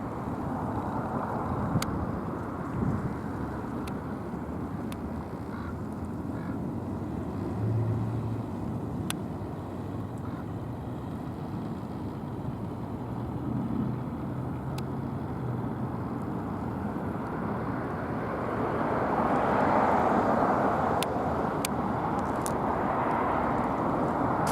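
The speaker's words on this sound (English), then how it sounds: "It's a direct overhead buzz. Believe it or not, it's a Los Angeles Police Department helicopter" A Los Angeles Police Department helicopter passes directly overhead, its low rumbling drone steady and fairly loud, swelling toward the end as it comes nearer.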